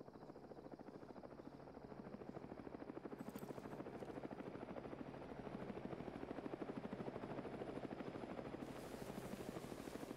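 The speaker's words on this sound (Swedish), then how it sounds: "Helikopter kommer rakt där och flyger." A helicopter flies overhead during a military hunter-troop exercise in Finnish countryside, its rotor chop a steady, dense pulsing that swells slightly as it nears and holds on without voices.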